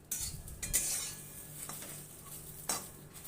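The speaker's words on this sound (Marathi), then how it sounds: "अशी छान भाजी गवार भाजून घ्यायची" Cluster beans (guar) dry-roasting in a kadhai, a low sizzle under intermittent scraping and stirring of a metal spoon against the pan, with a few sharper clinks standing out.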